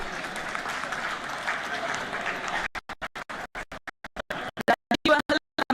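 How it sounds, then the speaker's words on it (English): An audience claps in a dense burst of applause at a trade fair stage session, which then breaks into choppy, intermittent patches before fading. "A big round of applause"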